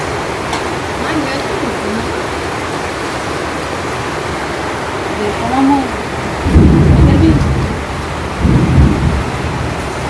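Steady heavy rain hisses throughout, with a couple of deep thunder rumbles rolling in near the end, heard from a home veranda on an evening during Ramadan; faint voices sit under the downpour.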